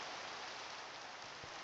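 Steady rain falls outside, a constant even hiss of drops on surfaces with no voices, close and uniform throughout.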